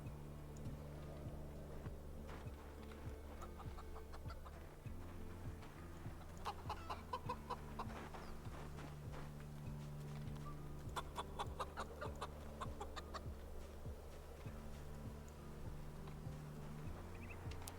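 Chickens cluck in the survival video game Project Zomboid, with repeated short clucks over a steady low hum and soft ticks, all fairly quiet and with no voices.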